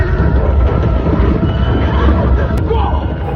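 A horse whinnies amid hoofbeats and a crowd's murmur in a film scene about a planet ruled by an ape kingdom, loud and busy, with the neigh rising over a dense, rumbling background.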